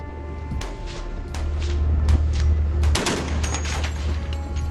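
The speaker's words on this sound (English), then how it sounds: "The Coast Guard captain ordered his men to open fire on the Chinese ship." A Coast Guard patrol vessel firing high-caliber rounds at a Chinese squid-jigging fishing ship at sea: sharp irregular bursts of gunfire over a deep rumbling engine drone, loud and close.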